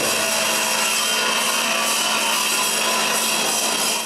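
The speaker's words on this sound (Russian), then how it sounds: "Болгарка, отбойный молоток, лопаты." Angle grinder and jackhammer breaking up old tiles in a pedestrian underpass during renovation, a dense continuous grinding, scraping roar that stays loud and close for the whole stretch with no pauses.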